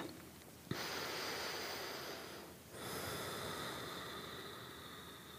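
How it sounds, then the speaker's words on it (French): Deep, noisy breaths during an abdominal exercise session: a long inhale, a brief pause, then a sustained airy exhale, all close and fairly quiet. "on prend une grande respiration maintenant"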